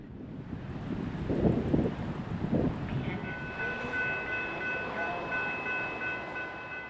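Metra F40PH locomotive number 116 passing a station on the BNSF line: a rumbling rush of rolling wheels and wind noise, with a sustained high tonal squeal joining midway, heard from trackside.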